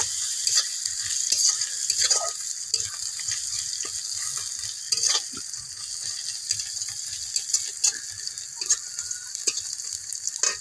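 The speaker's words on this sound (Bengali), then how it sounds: "মশলাটা ভাজা হয়ে গেছে।" Spices, onion and garlic fry and are stirred in a pan while cooking a fish and vegetable curry, giving a steady close sizzle broken by repeated scraping and clinking stirring strokes.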